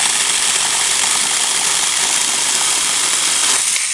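A Saker saw cutting through a piece of wood, giving a steady, loud, buzzing whine that holds constant for the full few seconds with no voices.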